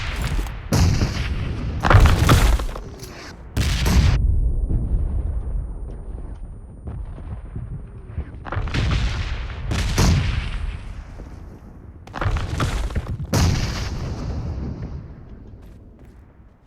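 A bomb thrown and exploding in a video game: a series of loud, booming blasts in clustered bursts, several in the first few seconds and more around 9–10 and 12–13 seconds, with rumbling decay between them.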